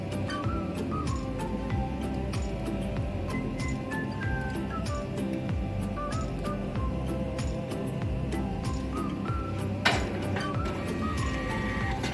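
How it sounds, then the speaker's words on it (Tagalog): A receipt printer at a point-of-sale system whirs and ticks steadily for several seconds as it prints an official receipt, a continuous mechanical buzz with rapid clicking, fairly close and without talk. "the receipt, official receipt, was sent to the receipt printer"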